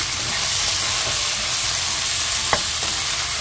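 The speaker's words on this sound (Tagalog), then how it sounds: "Ayan ang pork slice. Haluin natin hanggang mag-brown." Pork slices sizzle and brown in a hot frying pan, with a continuous close hiss and a few stirring scrapes over a few seconds.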